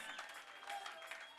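A church congregation claps together during a French-language sermon about Jesus, a soft, steady wash of applause heard from a distance without a break.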